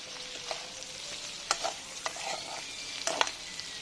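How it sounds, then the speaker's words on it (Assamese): Pork fries in its own rendered fat in a pan, giving a faint, steady sizzle broken by a few soft scrapes and knocks from stirring. "নিজৰ তেলত কি ধুনীয়া ফ্ৰাই হৈছে"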